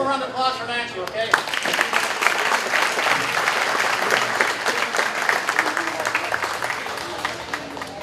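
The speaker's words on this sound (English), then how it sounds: "One more round of applause for Nancy, okay?" Audience applause at a county fair queen contest, a steady, dense wash of clapping that starts about a second in and keeps going at full strength to the end. A voice talks briefly just before the clapping begins.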